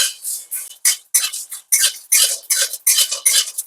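A utensil scrapes and stirs whole spices (nutmeg, mace, bay leaves, black peppercorns, cloves and cumin) roasting in a pan, giving close, rhythmic bursts of dry rattling and scratching strokes with short gaps between them.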